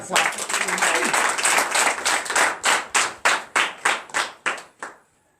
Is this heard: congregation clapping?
yes